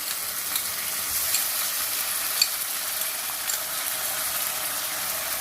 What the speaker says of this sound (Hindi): अब इसको भी थोड़ा सा भून लेंगे ताकि इसका कच्चापन जो है वो ख़त्म हो जाए